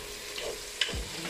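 Tomatoes get stirred into a tajine pot with a little oil over the heat, a soft steady sizzle under a brief scrape and clink of the utensil.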